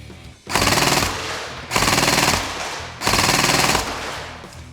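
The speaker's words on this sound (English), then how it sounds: "I'm going to switch the gun now to fully automatic and we'll just go ahead and fire at the target here" A high-cycle TM P90 airsoft gun firing three fully automatic bursts at a target, each a rapid buzzing rattle lasting just over a second, separated by short pauses, close and loud.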